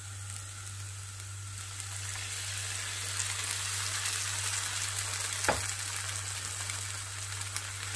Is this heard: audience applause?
no